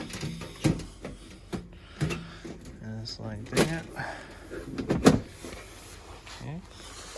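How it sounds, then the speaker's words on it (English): Door going back onto an Aprilaire Series 800 steam humidifier: close plastic clicks and knocks come in a few separate bursts, with a brief spoken remark among them. "So we're going to go ahead and put our door back on."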